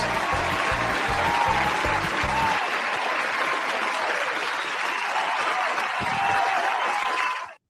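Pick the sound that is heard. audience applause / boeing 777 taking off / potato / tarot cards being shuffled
audience applause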